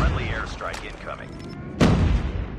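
Incoming airstrike explosions in a first-person shooter's ranked Hardpoint match land as one loud booming burst late in the clip, following a moment of game voice callouts and electronic sound effects.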